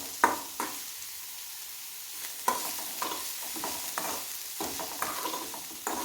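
Sliced onions and green chillies sauté in a pan over a medium flame, giving a soft, steady sizzle with intermittent scraping stirs of a spatula, fairly quiet and close.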